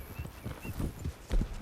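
A horse's hooves clip-clop in a steady walking rhythm in the Red Dead Redemption 2 video game, close and moderately loud, with a low thud near the end and no talk.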